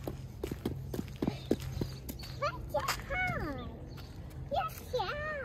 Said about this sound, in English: There's a pony.